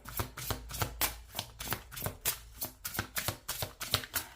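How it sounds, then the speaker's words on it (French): Tarot cards are shuffled and drawn, a quick run of soft rhythmic riffling flicks close by, quiet and without any talk. "On va prendre 2 cartes."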